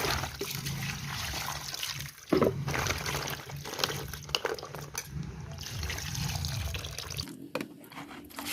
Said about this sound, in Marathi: आता परत एकदा स्वच्छ पाण्याने धुवून घेऊया